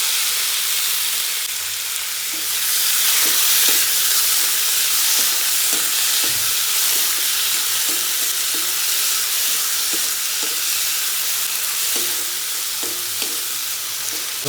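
Tomatoes frying with ginger and garlic in a pan for an Assamese catfish curry, giving a steady close sizzle with a few scraping stirs breaking through the hiss.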